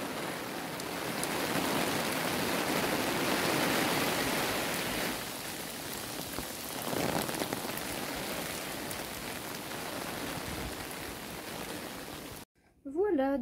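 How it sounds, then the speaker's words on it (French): Heavy pouring rain falls in a dense, steady roar close by for about twelve seconds, then cuts off abruptly, followed by a brief voice at the very end. "Donc je suis en train de rentrer et il pleut à verse."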